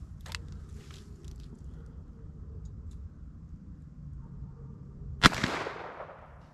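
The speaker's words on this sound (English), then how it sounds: "I'm shooting everything single action just for grouping purposes." A Smith and Wesson 686+ revolver fires single action at a range, giving a sharp, loud crack with a ringing decay late in the clip, after a quieter earlier snap and near silence.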